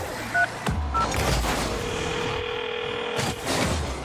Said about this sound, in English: All right, I'm gonna dial her phone number.